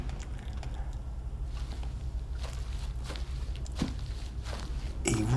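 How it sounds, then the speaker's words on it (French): Footsteps sound in the loading menu of the VR game Brink Traveler, a series of soft irregular steps on ground, fairly quiet against a low hum, with a louder thump at the end. "on a même des petits détails comme des bruits de pas dans le menu pendant que ça se load"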